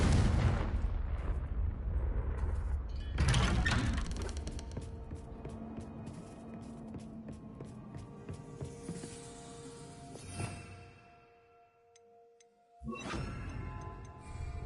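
A Confringo blasting spell detonates in Hogwarts Legacy, a heavy booming burst that rolls and crackles for several seconds, then a second impact hits after a brief lull, with no talking.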